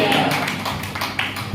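Congregation clapping hands during a Hindi church worship service, a run of brisk, evenly spaced claps with a voice speaking over them.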